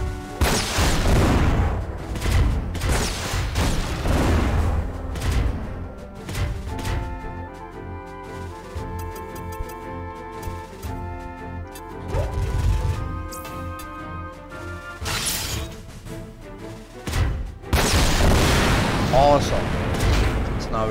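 Missile explosions and heavy blasts from the mech strategy game Front Mission 4, with a bazooka-only loadout, booming in loud bursts over game music while someone talks over the action.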